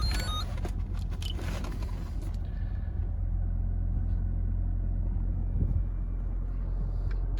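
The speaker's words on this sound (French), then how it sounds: "Et là le véhicule a démarré" Toyota Corolla Sport Touring hybrid 122h, just started and idling, heard as a low steady rumble with a faint hum, some brief rustles early on, no talking.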